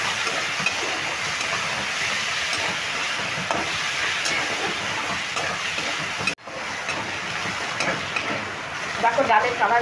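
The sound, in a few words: frying and stirring masoor dal with onions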